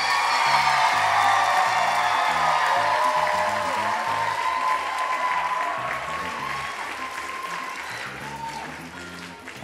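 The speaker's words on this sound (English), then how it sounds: "Please clap if you want to vote for Dog and Raccoon." Talent show audience claps to vote for an act, a loud, dense wash of applause with a few whoops that holds for nearly ten seconds and eases slightly toward the end.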